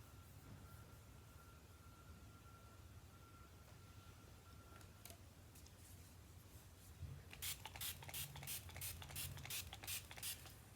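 After a quiet stretch with faint handling noises, a spray bottle mists watercolor paints in a quick series of about eight soft, breathy spritzes, close by and fairly faint.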